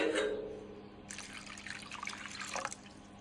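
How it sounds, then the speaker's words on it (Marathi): Poha (flattened rice) is rinsed in clean water in a home kitchen, giving a faint, steady trickle and gentle splashing of running water with occasional drips, and no talking. "आता आपण ते स्वच्छ पाण्यात धुवून घेऊयात."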